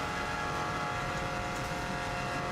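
A Subaru time attack car drives a warm-up lap on the Isle of Man TT course, with a steady, loud onboard engine drone and road roar continuing throughout.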